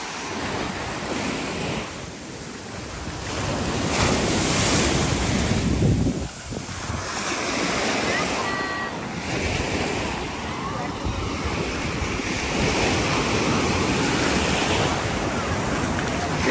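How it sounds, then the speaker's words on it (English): Waves rolling in at a busy municipal beach in Stavros, Greece, a constant roar of surf mixed with strong wind noise on the microphone, loud and close. "It's like a municipal beach"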